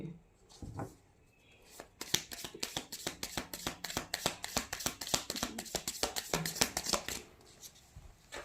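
Tarot cards are drawn and handled close by in a long run of rapid crisp flicks and riffles, roughly steady in rhythm, after a few softer handling sounds at the start and no clear speech.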